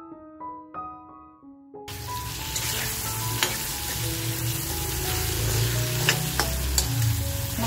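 Ground masala paste is stir-fried with vaktee, a dried fish, in a pan, giving a steady, close sizzle with frequent scraping and clinks from the stirring. A few musical tones play before the frying starts.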